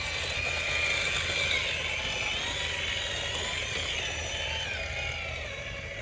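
A small RC truck's electric motor whines steadily at a high pitch, continuous and close, with no talking.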